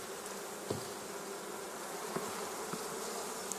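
A dense, steady hum of many honey bees buzzing close by in a hive, with a few faint clicks scattered through it.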